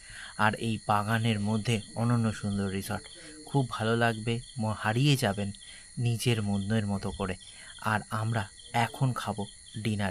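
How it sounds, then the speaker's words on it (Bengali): Crickets chirp steadily at night in a garden resort near Kolkata, a thin high-pitched trill running continuously beneath a man's close, clear narration. "চারদিকে ঝিঝি পোকার ডাক"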